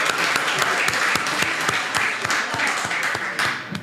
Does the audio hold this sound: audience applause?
yes